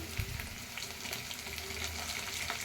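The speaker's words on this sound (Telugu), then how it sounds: "ఆనియన్ అయితే ఫ్రై అవుతుంది." Chopped onion frying in a pan, a continuous close sizzle and crackle with occasional faint stirring, no voices.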